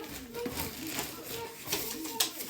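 Pigeons or doves coo at a bird feeder, giving soft repeated low calls close by, mixed with background voices.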